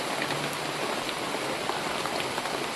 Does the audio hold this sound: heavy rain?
yes